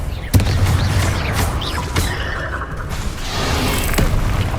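A Confringo blasting spell going off in the Hogwarts Legacy game, with a sharp booming hit followed by further thuds, whooshes and rumbling debris.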